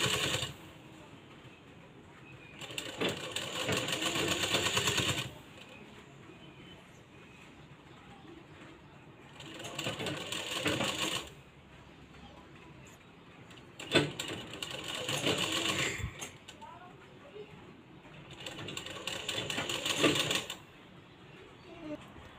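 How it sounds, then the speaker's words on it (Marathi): A sewing machine runs in three separate bursts of rapid mechanical stitching through blouse fabric, each lasting a few seconds with quieter pauses between, close and fairly loud. "इथं आपण आता डबल शिलाई मारून घ्यायची आहे"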